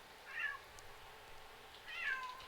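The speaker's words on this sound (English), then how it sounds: "You don't even know what you're meowing at." A cat meows twice, each call a clear rising-falling cry about a second and a half apart, heard alone over a quiet room hum, with gunfire-free silence between.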